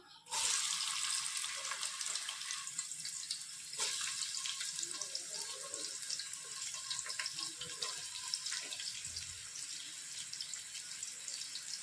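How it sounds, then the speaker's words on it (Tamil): Spices frying in hot oil in a pan give off a loud, steady sizzle that holds from start to finish, with faint clatter beneath it. "ஸ்பைசஸ் நல்லா பொரிய ஆரம்பிச்சிருச்சு"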